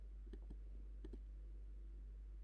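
Clicks on a MacBook touchpad, a few quick paired taps in two small bursts, faint and close over a low steady hum.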